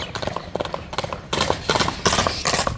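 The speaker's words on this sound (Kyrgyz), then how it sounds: "Аттын жүгүрүшү." A horse gallops during an ulak (kok-boru) horseback game, its hooves clip-clopping in a quick, uneven rhythm that grows louder and closer partway through, over faint crowd background.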